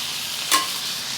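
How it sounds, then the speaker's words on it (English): Onions and mushrooms stir-frying in a pan, a steady close sizzle with one quick metallic scrape of a utensil partway through. "Stir fry them."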